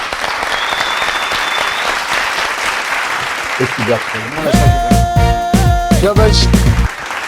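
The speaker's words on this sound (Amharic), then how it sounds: "አንድ ጊዜ ግን ሞቅ ያለ ጭብጨባ እንታረግ" Steady applause from a crowd fills the whole stretch, with music and a voice rising over it toward the end.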